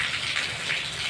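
Heavy rain pours down on a village in Pakistan, making a loud, dense and steady hiss with no pauses and no voices.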